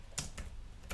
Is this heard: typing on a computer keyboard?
yes